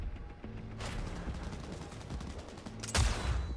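Gunfire from the Cyberpunk video game: dense bursts of rapid shots run through the whole stretch, with a heavier blast near the end, loud and close, with no talk over them.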